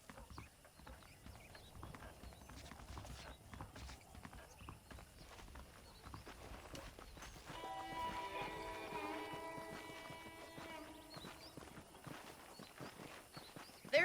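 Horse hooves clip-clop at a steady walking pace in the Red Dead Redemption video game, soft and moderately close under a faint ambient background of wind and distant noise, with a brief whinny or musical tone midway.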